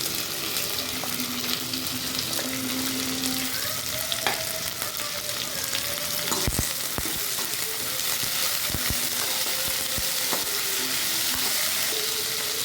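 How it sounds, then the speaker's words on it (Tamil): Ivy gourd (kovakkai) frying in hot oil, a loud continuous close sizzle and crackle throughout, with occasional clinks and scraping from stirring. "முதல்ல ஃப்ரை பண்ணி எடுத்துக்கலாம்."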